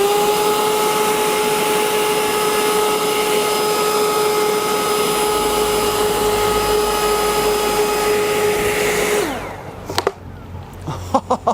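A Ryobi 40V 730CFM Whisper Series leaf blower runs at full power with a steady, loud rushing whine for about nine seconds, then cuts off abruptly, leaving a few sharp knocks and clatters.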